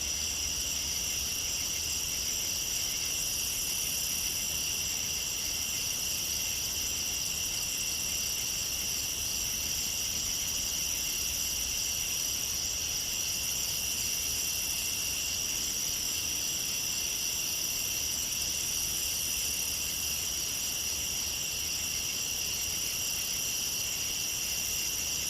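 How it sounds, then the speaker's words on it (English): Steady, dense chorus of crickets and other night insects, with bright continuous trilling bands and no talk, holding evenly throughout the whole stretch. "The insects in the background, mosquitoes and other bugs that make noise."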